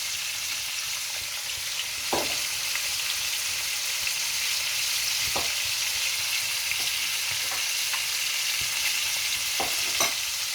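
Sliced onions and cinnamon sticks fry in a pot, giving a steady close sizzle with occasional stirring scrapes and clicks standing out over the hiss.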